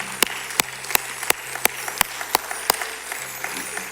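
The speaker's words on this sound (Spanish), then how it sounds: "Pues démosles un fuerte aplauso al Señor el día de hoy." A church congregation applauds during a Spanish-language service, with a broad wash of clapping under a steady, regular beat of loud claps, each one distinct, running through the whole stretch.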